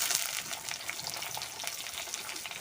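Pumpkin fries in a pan after garlic and ginger, a bright, even hiss of sizzling oil with faint crackles throughout, close and steady with no speech.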